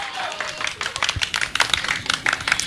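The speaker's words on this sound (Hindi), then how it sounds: "उसके सपोर्ट में तालियां ही बजती हैं" Audience applause for a speaker, a dense, fairly close patter of many hands clapping with no speech over it.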